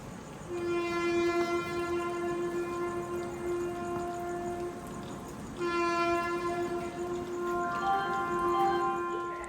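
A moving train rolling along railway tracks, its horn sounding long sustained blasts, close and loud over a steady rumble, with a short break before the horn resumes.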